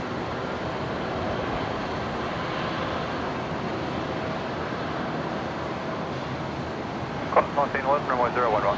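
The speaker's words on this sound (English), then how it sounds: "Now the Nauru 737 Classic, the 300, arriving from the Gold Coast" A Nauru Airlines Boeing 737-300 Classic arrives at Brisbane airport with a steady, broad jet-engine roar at moderate distance, and a voice cuts in briefly at the end.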